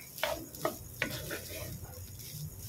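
Leftover fried rice with margarine is stirred in a pan, with a few sharp spatula scrapes and taps over a soft low sizzle, close but quiet in a short burst.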